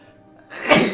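A single sharp sneeze bursts out close and loud after a brief quiet buildup, over a faint low hum.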